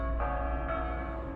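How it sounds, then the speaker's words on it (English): Church bells of the old walled city of Dubrovnik ring for noon in winter, with sustained overlapping metallic tones and fresh strikes heard from a distance. "all the city bells are going now because it is 12 noon"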